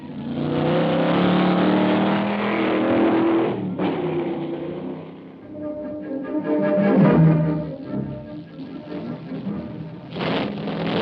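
A Chevy-powered Arciero Lotus sports car, weighing under 1,400 pounds, races up Pikes Peak in the 1965 hill climb, its engine revving hard and loud, dropping off at gear changes, then surging again close by.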